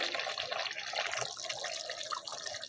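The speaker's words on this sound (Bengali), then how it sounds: "হালকা একটু পাতলা জল দিয়ে দিব, যাতে মাংসটা সিদ্ধ হয়ে যায়" Water poured into a simmering village-style chicken curry with potatoes, a faint steady trickle and splash from close by, no talk.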